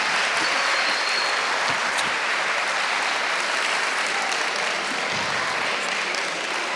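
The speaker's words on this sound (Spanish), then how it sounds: "la vamos a recibir con un fortísimo aplauso" Loud, sustained audience applause fills the whole stretch, a dense unbroken clapping from a large crowd welcoming Belisa Coro onto the stage, with no voices over it.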